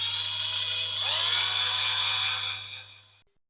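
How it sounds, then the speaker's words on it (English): A 5.5mm drill bores out a rivet on a Corgi Toys 407 Smiths Karrier diecast toy truck lying on its roof, a loud steady high whine that bites harder midway, then winds down and stops near the end. "So I'll get a drill and we can get started."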